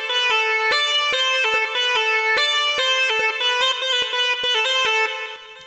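Synth lead patch from the Morphine VST plugin, used for Bhojpuri Holi songs, playing a bright, stepped melody of short, evenly spaced notes with sharp attacks, loud and alone.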